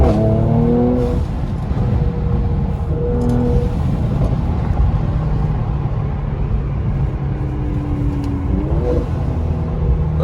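A 2020 Mercedes C43 AMG fitted with the AMG Performance Exhaust accelerates, its engine note rising in loud, sustained surges with brief lifts between pulls, heard from inside the car amid road noise.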